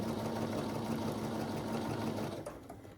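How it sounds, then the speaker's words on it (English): A sewing machine stitches quilt pieces together in a steady, close, whirring hum that runs continuously before slowing and fading near the end. "I'm going to sew these."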